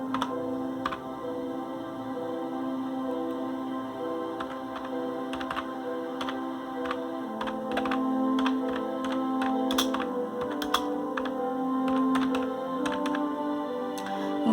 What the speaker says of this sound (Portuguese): Digitar aqui.